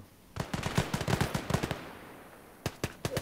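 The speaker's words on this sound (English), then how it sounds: "Who are they shooting at?" Rapid gunfire rattles out in Gates of Hell: Ostfront, a burst of quick, evenly spaced shots, then a pause and a few more single reports, at moderate distance with no talking.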